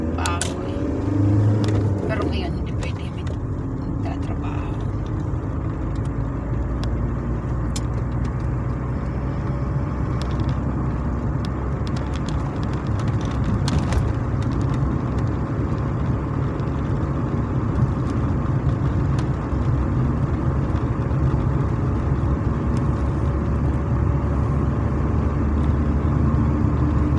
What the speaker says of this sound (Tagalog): Grabe guys, yung traffic.